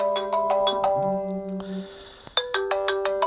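A mobile phone rings with an incoming call, playing a bright, repeating electronic melody of quick chime notes. It sounds close and loud and carries on alone after a brief pause.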